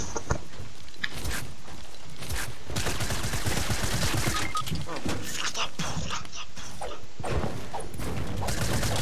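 Fortnite gunfire in dense, continuous volleys of shots that stay loud throughout, mixed with game noise while players talk over it.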